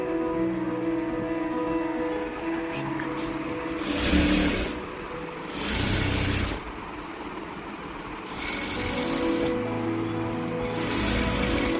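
A sewing machine stitching a blouse back neck design in four loud close bursts of rapid whirring, separated by pauses filled with a low steady hum and faint mechanical ticks.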